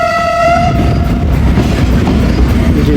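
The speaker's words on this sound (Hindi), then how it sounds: "दोस्तों रायवंड जंक्शन पहुंच गई है ट्रेन हमारी 15 अप" The Karachi Express, a Pakistani passenger train, pulling into Raiwind Junction, a loud, close rumble of rolling wheels and carriages with a sustained horn blast sounding over the opening second.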